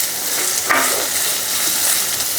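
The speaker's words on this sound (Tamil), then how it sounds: "வெங்காயம் நல்லா வதங்கி வரட்டு." Medium-sized large onions fry in oil in a pan after cinnamon and cloves, for a tomato kurma. A soft, steady sizzle is heard close up, with one brief louder crackle and no talking.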